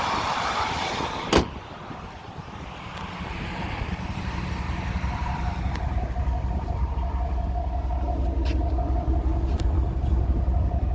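A 1992 Cadillac Allante convertible with a 4.5 liter V8 runs at a steady idle, giving a low continuous rumble nearby, with a sharp click early on.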